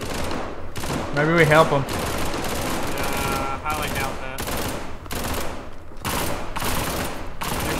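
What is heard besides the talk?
gunfire in video game SCP 5K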